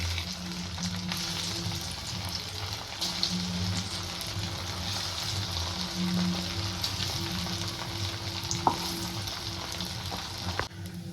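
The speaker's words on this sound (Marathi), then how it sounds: "तेल पण आपलं छान तापलेलं आहे तर तेलामध्ये सोडून घेते मी" Balls of pakora batter made from leftover rice deep-fry in hot oil, giving a steady, dense sizzle and bubbling that carries evenly throughout, with a faint low hum underneath and no talking.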